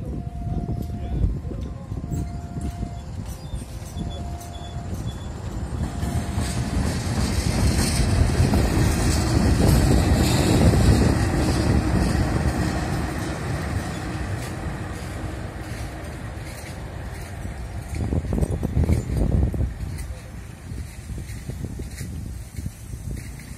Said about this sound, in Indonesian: akan kita saksikan bagaimana lokomotif memasuki jalur layang menuju Bandara Ya untuk kedua kalinya